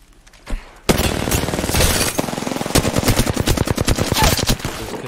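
Flatline rifle fire in the Apex Legends video game: a faint shot near the start, then sustained loud automatic bursts of rapid, evenly spaced shots running close up through the rest.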